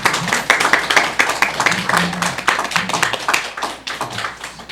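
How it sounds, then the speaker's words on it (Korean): A church congregation claps together in a dense, continuous burst of applause, fairly close, with faint voices underneath. "박수로 환영해 주시기 바랍니다"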